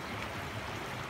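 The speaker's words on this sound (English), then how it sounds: "here we got another river I need to cross" A sizable river rushes and gurgles at a crossing on the hiking trail to Sespe Hot Springs, a dense, close, continuous wash of flowing water with no voices over it.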